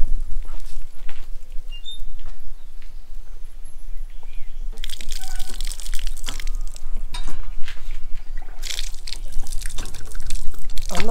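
Water splashes and trickles steadily, with drips and gushing surges that grow louder in the second half, pouring out in bursts from a hand-turned pump filling bottles.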